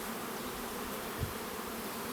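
A dense, continuous drone of many honeybees buzzing close by, steady and even throughout, with no voices.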